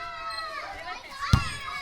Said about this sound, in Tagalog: Yung mga bata ay naglalaro sila ng volleyball.